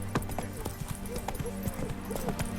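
Horse hooves galloping in The Witcher 3: Wild Hunt, a steady rapid clip-clop rhythm throughout, moderately quiet under low game ambience.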